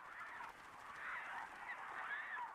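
Migratory geese honking, a chorus of repeated nasal calls overlapping at moderate distance, steady throughout with no other sounds.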